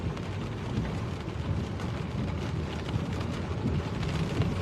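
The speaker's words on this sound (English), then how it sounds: "On a miserable day on the Costa del Sol, but we've got to have rain sometime" Steady rainfall on the Costa del Sol, a dense, even wash of drops with low rumbling wind underneath, continuous and fairly loud throughout with no talking.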